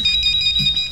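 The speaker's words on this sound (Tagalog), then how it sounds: "Nagring ang telepono diri sa akong konto." A telephone rings in a room in a provincial jail, a steady electronic trill repeating through the second, clear and close with no talk.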